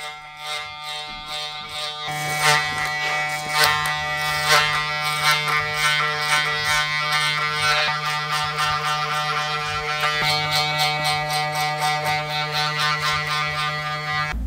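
Electric hair clippers with a guard buzz steadily while cutting a low fade, a close, continuous motor drone with rapid stuttering pulses as the blades move through hair; no talking.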